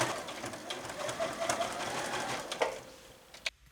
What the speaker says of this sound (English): To close the upper pocket edge, tack it down with a straight stitch or a twin needle stitch